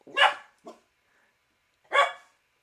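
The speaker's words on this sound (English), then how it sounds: "We got a dog barking." Dog barking nearby: two sharp barks with a short yip between, separated by silence, fairly loud and clear with no one talking.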